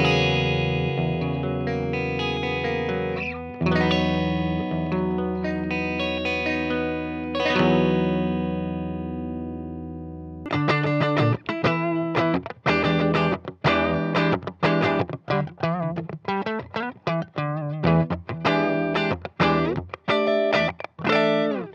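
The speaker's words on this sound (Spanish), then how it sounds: "Vamos a conectar la guitarra directamente al amplificador en el canal limpio." A Mexican Fender Telecaster electric guitar plugged straight into an amp's clean channel rings out with long sustained chords, then switches to tight, choppy rhythmic strumming, loud and close with no voices.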